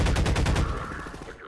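A rapid burst of gunfire from a powerful gun in Half-Life 2, about a dozen sharp, loud shots in quick succession that stop abruptly, followed by a fading ringing tail.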